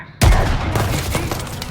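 Gunfire erupts suddenly in Call of Duty: Vanguard, a loud burst of shots and rumble that continues densely after a quiet start.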